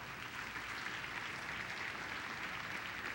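Congregation applauding during a church sermon: a constant wash of many hands clapping, fairly quiet and distant, without breaks.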